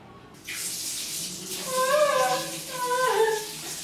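A kitchen tap runs water into a sink with a steady splashing rush, close by, and someone talks over it in the middle of the stretch.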